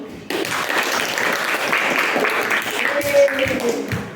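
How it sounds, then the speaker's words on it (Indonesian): Classroom applause for a group presentation: a burst of clapping from students starts abruptly and continues steadily, fairly loud, with a few voices mixed in near the end. "Tepuk tangan dulu."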